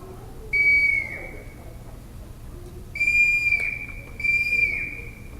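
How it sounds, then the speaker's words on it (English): A Cherokee calling whistle made of river cane gives three clear, sustained high tones, each sliding slightly down at the end, with short pauses between blasts, close and loud against a quiet background. "I guess you could call this the Cherokee calling sound. It's made from river cane."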